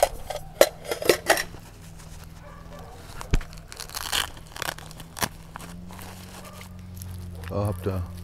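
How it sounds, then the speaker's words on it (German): A camping cutlery set of knife, spoon and fork clinks and rattles in sharp metallic taps and a brief clatter, mixed with rustling packaging, while a person talks over it. "Es ist ein Besteck mit drin."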